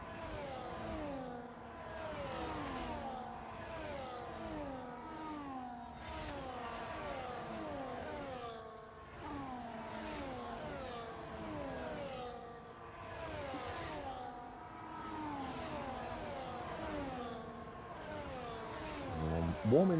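Race cars on a formation lap in a racing video game on a Saudi Arabia circuit: a continuous mid-pitched engine drone with many overlapping cars repeatedly revving up and easing off, sweeping past nearby.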